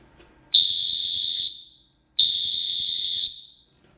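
Two long, piercing blasts from a TG Electronics TG-E192 rechargeable electronic whistle, each about a second, loud and steady, separated by a short silence.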